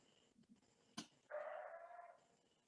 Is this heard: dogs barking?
yes